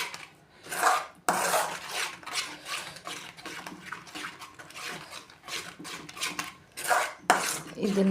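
A spoon stirring and scraping strawberry shrikhand in a bowl, with repeated clinks and rubbing scrapes in uneven bursts, fairly close and moderately loud, with no talk.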